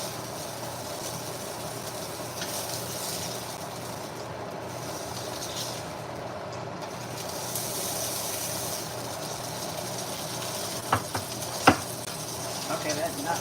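Breakfast sausages sizzle steadily in a frying pan, a continuous close hiss of fat with a few sharp pops and utensil clicks near the end.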